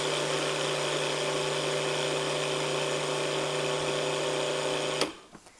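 Food processor blending nuts with sugar into a fine crumb for a cheesecake crust, a steady loud whirring motor hum that runs continuously for about five seconds and then cuts off abruptly.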